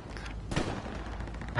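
Enemy gunfire in a mobile shooter video game makes a short crack in the middle of a muffled, noisy battle background, fairly faint and close, with no talk heard.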